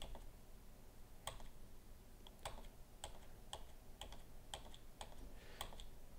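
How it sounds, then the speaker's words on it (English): Computer keyboard keys pressed in irregular, crisp clicks at close range, a few taps per second over a faint steady background hiss, with no voices. "I'll press down on the keyboard, and I could just scroll through"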